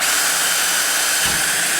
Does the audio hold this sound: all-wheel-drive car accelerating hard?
no